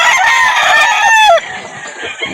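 A rooster at a chicken market in Calauan, Laguna gives one loud, close crow lasting over a second, followed by quieter background clucking and market ambience.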